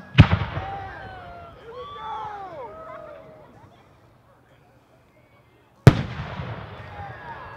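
Fireworks fired at a Thunder on the Plains 2021 display, with a sharp launch burst, crackling and whistling trails fading out, then a second loud burst near the end, crowd noise underneath.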